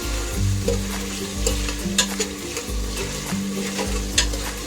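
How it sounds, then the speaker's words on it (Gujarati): Potatoes and peas are stirred through hot oil for a Gujarati matar pulao, with a steady close sizzle and repeated scraping strokes of a spoon against the pan. "આને થોડુંક તેલમાં આપણે સ્ટર કરશું"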